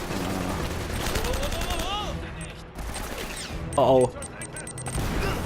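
M4 rifle fire in the action game Uncharted comes as rapid bursts amid game effects, with a brief loud impact near the end, while someone talks and exclaims throughout.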